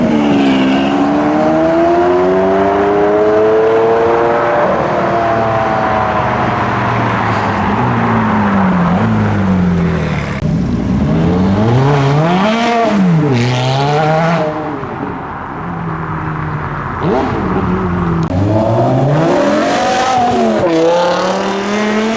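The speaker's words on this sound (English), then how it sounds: "Oh no, the Aventador SV's leaving." A Lamborghini Aventador SV pulls away loudly, its engine revving hard in repeated rising and falling sweeps through the gears, staying close and prominent the whole time with no talk.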